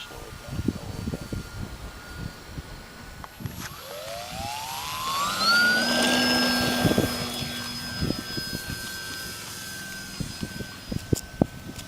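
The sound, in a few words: Kyosho Cessna RC model airplane flying in wind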